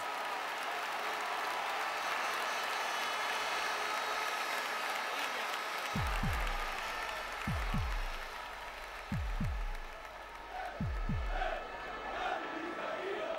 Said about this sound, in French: Le sourire revient, le stade applaudit, debout,